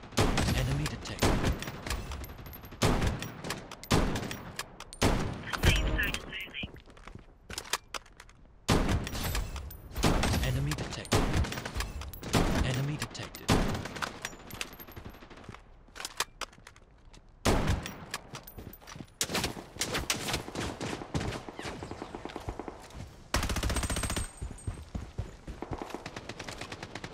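Rapid gunfire bursts in the mobile shooter Project Bloodstrike, loud close volleys and machine-gun rattles broken by short gaps, with faint game announcements in the background.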